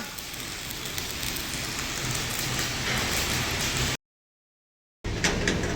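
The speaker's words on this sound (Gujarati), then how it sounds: "વરસાદ જોરદાર પડી રહ્યો છે બહાર." Heavy rain pours outside a workshop, a dense, steady roar that drops out abruptly for about a second before resuming.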